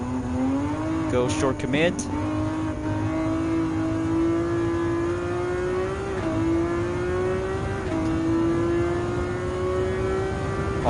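An Ascari hypercar engine racing in Gran Turismo 7 holds a steady, loud, high-pitched drone that climbs slowly as it pulls through the lap. A voice speaks briefly early on.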